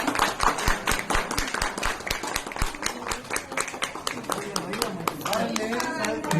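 A small crowd breaks into scattered, crisp hand clapping, irregular and fairly close, while several voices talk loudly over it throughout.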